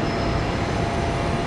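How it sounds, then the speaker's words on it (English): A train pulls into Platform 6 at a Brisbane station, giving a loud, steady rumble and broadband roar with no talk over it. "There's another train coming in."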